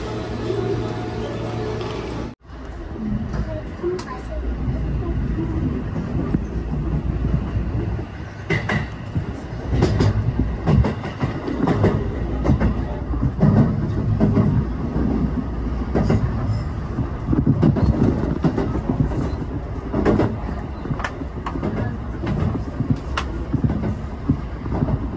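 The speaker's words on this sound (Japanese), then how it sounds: "特急列車顔負けの速度で、ね、この東海道山陽本線を爆走していけます" A JR rapid train running at speed on the Tokaido-Sanyo line, heard from inside as a loud steady rumble with rhythmic wheel clatter and occasional rattles, which starts after a brief quieter moment.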